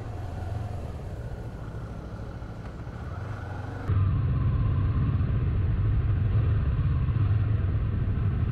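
Honda CBR 250RR SP motorcycle ridden on roads in Bali toward Uluwatu Beach, its engine a steady low rumble with wind noise that jumps louder partway through and holds there.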